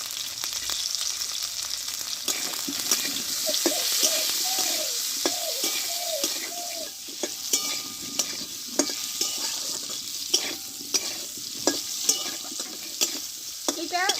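Three onions half-fry in oil for a Bengali-style chicken dish, giving a steady, close sizzle broken by regular stirring clicks, with faint bird chirps in the background for a few seconds.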